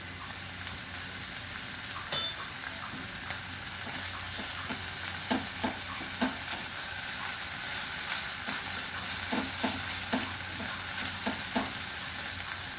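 Half a spoon of chopped ginger fries in hot oil for a prawn curry, a steady low sizzle broken by frequent light taps and scrapes of a stirring spoon against the pan.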